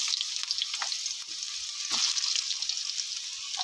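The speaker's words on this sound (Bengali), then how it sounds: "এবার এই তেলেই আমি লাউটা দিয়ে দেব।" Chopped bottle gourd tipped into hot oil just used for frying baim fish sizzles in a broad, steady hiss, with a few faint knocks and scrapes rising through it, near and continuous.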